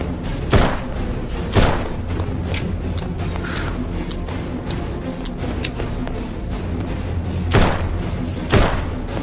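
Gun firing in a horror video game: four heavy, booming shots spaced a second or more apart, loud and close, over a low continuous background rumble.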